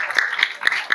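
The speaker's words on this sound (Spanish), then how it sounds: "Este aplauso es de reconocimiento para ti." Audience applause at a book launch honouring illustrator Itzel Tain, a brief burst of steady clapping from a nearby crowd, fairly loud, with no talking over it.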